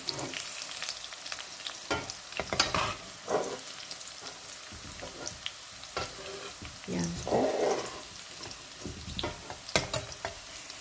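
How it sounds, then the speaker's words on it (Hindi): Potato pieces sizzle and fry in oil in a pan for a vegetable korma, with steady crackling broken by several louder clatters of stirring, close and moderately loud, with no talk. "ये हमने आलू डाल दिया, थोड़ी देर तक इसको हम ब्राउन करेंगे"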